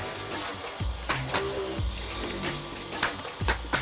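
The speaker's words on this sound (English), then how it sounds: "Here you could see me fastening the boards down with my air nailer." An air nailer fires into sheathing boards on a house exterior in frigid weather, delivering about five sharp, evenly spaced nail shots over a steady background hum, each a short percussive bang.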